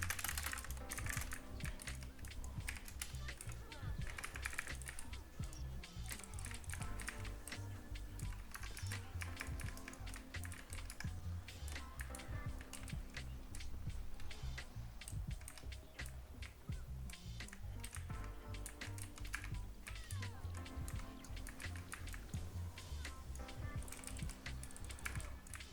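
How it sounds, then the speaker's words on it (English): Rapid, continuous clatter of keys on a computer keyboard, steady and close throughout with dense overlapping keystrokes and no pauses. "I need to stop typing"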